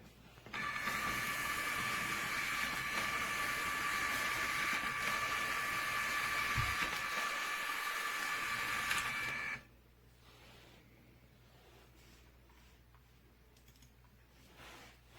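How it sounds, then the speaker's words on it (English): An Epson WorkForce ES-C320W compact document scanner runs a scan, a steady mechanical whine and feed hum holding for about nine seconds before stopping abruptly into near silence, close and fairly loud, with no speech. "place the documents, if you're doing one-sided, face down, and click on scan, and it's really quick"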